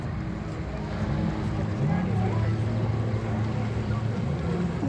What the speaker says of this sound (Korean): 수상 모터 보트.